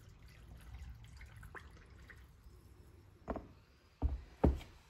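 Water trickles faintly into a canning jar packed with carrots, then three short splashy gurgles near the end, close by and otherwise quiet.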